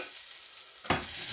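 Fresh basil goes into a wasabi ginger stir fry with palmini noodles, and a quiet background hiss suddenly swells into a loud, close sizzle that keeps going.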